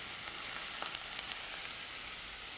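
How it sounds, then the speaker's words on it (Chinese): Hot oil is poured over chili, sesame seeds and Sichuan pepper powder, producing a soft, steady sizzle with a few sharp little crackles near the middle, faint and close, with no talking. "再浇上热油"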